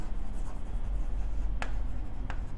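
Writing on a board during a lecture on enzymes: steady scratchy strokes with a couple of sharper taps, close and alone with no talking.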